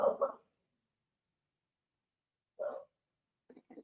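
A few short dog barks, faint and set apart by silence, a quick double bark first and then scattered single yaps.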